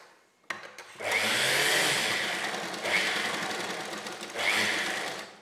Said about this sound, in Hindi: तो इस पर हम सिलाई मशीन चलाएंगे